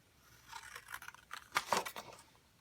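Scissors trimming out a piece of stamped paper with a series of close, crisp snips and rustles that build to a few sharper cuts near the end.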